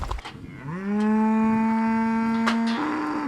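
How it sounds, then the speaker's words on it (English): A cow lets out a long, loud, drawn-out bellow close by, its low moan holding steady for a couple of seconds before trailing off. "the air is soon filled with swinging lariats, the sound of bellowing cows"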